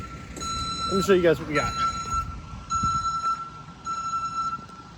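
A dump truck reverses at a pool removal and yard grading job in Charlotte, NC, its steady backup beeper repeating in regular pulses beside a rumbling engine while someone talks briefly over it.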